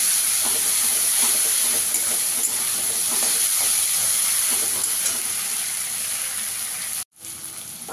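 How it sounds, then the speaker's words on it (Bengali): Ginger garlic paste sizzles as it is sautéed in a pan for Dak Bungalow chicken. A steady, close frying hiss continues throughout and briefly cuts out near the end. "আদা রসুনটা দিয়ে একটু ভালো করে কষিয়ে নেবো।"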